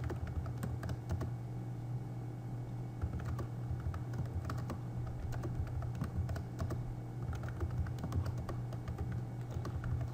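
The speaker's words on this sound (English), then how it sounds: "I'm just typing the data values." Steady typing on a computer keyboard, a dense run of close key clicks over a constant background hum, with no voices.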